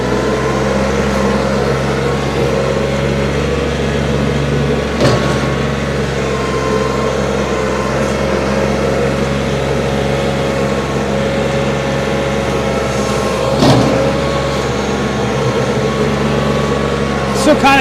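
A 2021 KIOTI DK4210SE HST tractor with a backhoe attachment idles at medium throttle, a loud steady diesel drone with a low constant hum and faint mechanical rattles, while someone talks over it.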